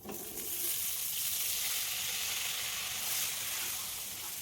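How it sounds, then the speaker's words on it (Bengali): Cauliflower pieces fry in hot oil in a wok after potatoes, giving a loud, steady sizzling hiss that holds evenly throughout with no talking. "ফুলকপিটাও আমি খুব ভালো করে ভেজে নিচ্ছি।"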